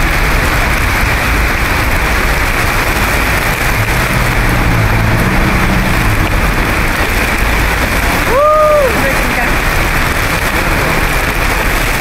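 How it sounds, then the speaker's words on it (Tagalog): Heavy rain pouring down on a street in Hong Kong, a dense, loud, unbroken hiss close to the mic, with a brief tonal horn-like sound passing near the end. "Naligo kami sa ulan."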